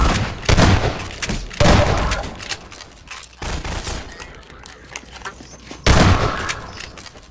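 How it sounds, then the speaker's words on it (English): Grenade fired from an SMG and exploding in Half-Life 2: Lost Coast, heard as several loud, sharp blasts spaced a second or two apart, each trailing off into a rumbling decay. "SMG grenade."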